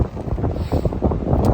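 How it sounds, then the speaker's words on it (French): Wind buffets the microphone on a mountain trail up Sainte-Victoire, a rough, gusty rumble with uneven surges across a short stretch. "un coupe-vent parce qu'aujourd'hui il y a du vent"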